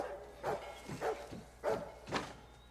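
Aggressive dog barking in a tense movie scene, four or five sharp, loud barks spaced unevenly about half a second apart over low background hum.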